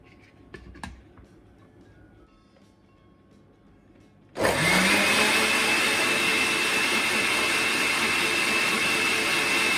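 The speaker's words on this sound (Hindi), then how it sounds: "ये 3-4 जवे लहसुन के ये ऐड करके हम इसको ग्राइंड करेंगे पहले।" A kitchen grinder starts abruptly and runs steadily, blending garlic cloves in extra virgin olive oil for pesto; loud whirring motor drone after a few quiet seconds of faint handling noises.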